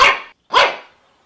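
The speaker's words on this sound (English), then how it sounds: "And Bane thought he will harm him and got scared every time he listens Chowchow barking or coming near him" A dog in an animated children's story, a Chow Chow, gives two sharp, loud barks in quick succession, the second slightly longer, followed by silence.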